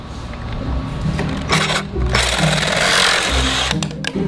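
PVC pipe is cut at close range with a tool, giving a harsh, buzzy grinding that rises and falls in bursts over a few seconds.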